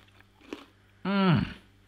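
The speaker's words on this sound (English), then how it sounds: "For me, the roast potatoes, I want a good crunch." A single bite into crunchy roast potatoes at a roast chicken dinner, a loud crisp crunch close to the mic after a faint earlier tap, then quiet.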